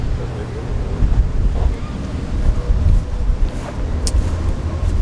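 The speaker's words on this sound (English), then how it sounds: "It's kind of windy, so hopefully this dead cat kind of helps with the wind." Steady low rumbling wind buffeting a microphone fitted with a furry windscreen outdoors at a car show, constant and fairly loud throughout, with faint higher sounds drifting in the background.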